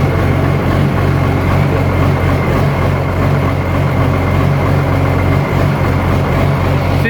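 An Oliver 1855 turbo diesel tractor engine idles cold, a dense, steady, loud low rumble with a constant hum that runs without change from start to finish, with no voices.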